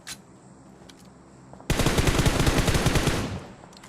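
Rapid automatic gunfire spray from an esports battle-royale match, one loud sustained burst of rattling shots starting abruptly after a quieter moment and lasting about two seconds before fading, with no talk over it.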